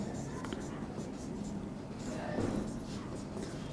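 Chalk or marker scratches across a board as the word prothrombin is written out during a hematology class, a faint, continuous scraping close by with soft voice sounds in the background.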